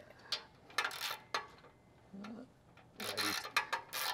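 A hand ratchet socket wrench clicks as it tightens a fastener on an exhaust pipe, giving quick short bursts of ratcheting close by, broken by brief pauses, with no talking.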